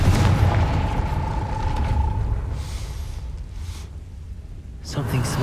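A Confringo fire-blast spell goes off in Hogwarts Legacy, a loud booming burst with a rumbling tail that fades, then a second sharp blast near the end, close and forceful.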